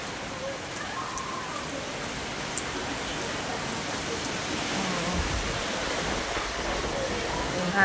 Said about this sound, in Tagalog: Meron pang ulan.